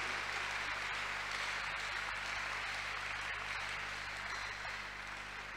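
A church congregation clapping together during a testimony service, a dense, continuous wash of applause that stays loud and even throughout.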